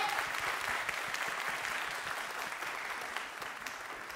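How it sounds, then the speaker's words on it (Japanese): Steady, dense applause from the audience fills a Japanese fighting game tournament hall, Fighting Carnival 2014 Summer, fading slightly toward the end. "韓国からいらっしゃったテスト選手に大きな拍手をお送りください"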